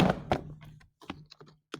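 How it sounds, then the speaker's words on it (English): A keyboard being attached to a device gives a few sharp thunks and clicks, close and brief, separated by short pauses, with no talking. "bear with me here for a moment while I attach a keyboard"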